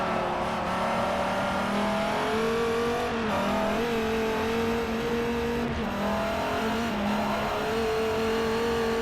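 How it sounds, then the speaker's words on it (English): A 900 horsepower Dodge race car in Forza Motorsport 4 roars steadily with its engine revving, rising and dipping in pitch in repeated throttle stabs, loud and close throughout. "I'm stabbing the throttle. Not the best of ideas in a 900 horsepower car."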